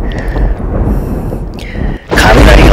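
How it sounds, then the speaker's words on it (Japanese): A thunder-strike sound effect: a loud, low rumble builds and holds, drops out briefly, then a sudden close, crashing boom bursts in and sustains. "雷が落ちています。 すごい音ですね。"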